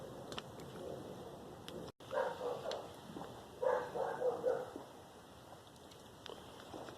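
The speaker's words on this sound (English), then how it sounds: "There's a few dogs barking in the background" Several dogs bark in the distance, faint and echoing, in scattered bursts over a quiet outdoor hush.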